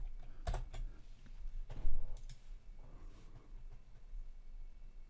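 Keys clatter on a computer keyboard in short bursts of close, crisp clicks with a louder thump near the middle, then quieter tapping, with no one speaking.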